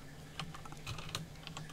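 Keys clatter on a computer keyboard as a command is typed into the Rust game console, a quiet run of separate clicks in an irregular rhythm, heard close with no one talking.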